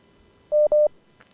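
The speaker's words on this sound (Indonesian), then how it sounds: "alhamdulillah telah tersambung dengan kita kembali penelpon kedua, Bapak Usman dari Riau." A telephone line connects a caller to a live Islamic radio call-in program, sounding as two short, moderately loud mid-pitched beeps followed by faint clicks.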